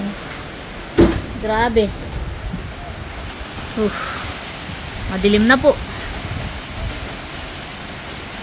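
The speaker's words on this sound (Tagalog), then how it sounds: "malakas na rin po ang ulan at hangin" Heavy rain and wind from Typhoon Uwan, a steady faint hiss and rush of rainfall in the background, while someone speaks in short phrases over it.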